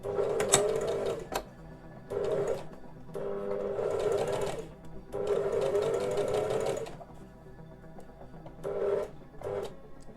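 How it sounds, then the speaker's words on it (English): A sewing machine stitches a beginner's toile in bursts of steady, close mechanical whirring, running in several separate runs with brief pauses between them. "Okay, and sew it all the way without back stitching."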